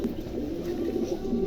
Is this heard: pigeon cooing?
yes